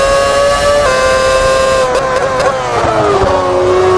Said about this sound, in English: It's a V12.